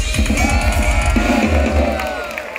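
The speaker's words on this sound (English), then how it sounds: "Let's give a big round of applause for all the bands that played tonight" Concert crowd at a live metal show in Budapest yelling, whooping and cheering in a loud, dense roar, with stage sound and shouting voices mixed in.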